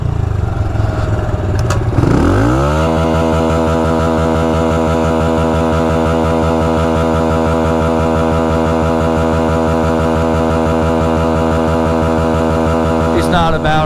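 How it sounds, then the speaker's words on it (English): A motorcycle engine revs up sharply, then holds against the rev limiter with a loud, steady, buzzing drone that bounces rapidly off the cutoff for about eleven seconds before dropping away, up close and with no speech. "we're gonna meet this dude for the rev limiter stare down"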